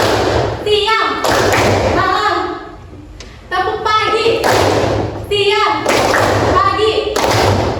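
Students in a history classroom perform a chanted clapping game, bursts of rhythmic hand claps and desk thumps alternating with the group's call-and-response chanting, loud and close, with a brief quieter gap midway.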